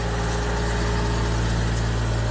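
A Ford Everest engine held steady at 1500 rpm, with a throttle wedged open during a Blackcore intake-cleaning service, drones on in a continuous even mid-revs hum with a strong low rumble and no other sounds.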